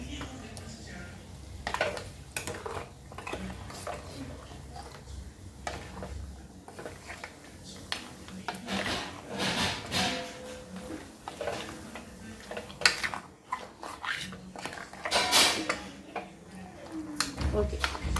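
A jackfruit-seed dish is stirred and mixed in a pot: repeated scraping and clinking of a spoon against metal, with soft sizzling, while someone talks throughout.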